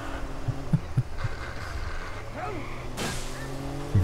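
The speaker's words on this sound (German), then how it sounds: "Hört sich die Karre nicht mehr sehr gesund an." A rough, strained, damaged car engine in a video game drones and revs unevenly, with a few knocks and a rising whine, moderately loud and without speech.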